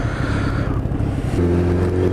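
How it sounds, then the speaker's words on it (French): A car accelerates on a road test drive, its engine hum steady and close, rising into a stronger, tonal drone partway through with no talk over it. "La conduite est super agréable en fait, c'est ça le truc. Ça accélère trop bien."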